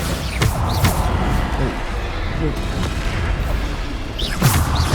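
Repeated Bombarda blasting spells from Hogwarts Legacy thump through a dense, noisy game mix, with booming bursts near the start and again near the end over constant background clatter and voices.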